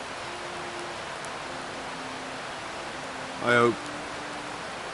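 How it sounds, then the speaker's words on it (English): Light rain falls in woodland at a bushcraft hammock camp, a steady soft hiss running through the whole stretch while a person speaks briefly near the middle. "And now it's starting to rain."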